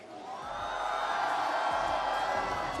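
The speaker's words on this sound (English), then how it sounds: "You can hear the crowd." Crowd cheering and roaring at a huge rollerblading venue, a broad steady wash of voices that swells in the first half second and then holds loud and continuous.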